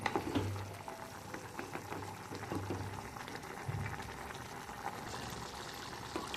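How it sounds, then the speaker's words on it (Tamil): Salem-style kara kuzhambu simmers in a soapstone pot, giving a soft, steady bubbling with low gurgles that stays faint and close, with no voices. "மாக்கல் சட்டி பார்த்திங்கன்னா இறக்கி வச்ச பிறகும் அரை மணி நேரத்துக்கு இது கொதிப்பு தன்மை அப்படியே இருக்கும்"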